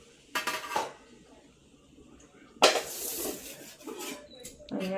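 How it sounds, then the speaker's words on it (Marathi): Spoon scraping and clinking against a bowl while shankarpali dough is mixed with ghee, sesame and salt, in a few sharp bursts separated by quieter pauses. "आणि आता आपण चांगलं मिक्स करून घेऊ।"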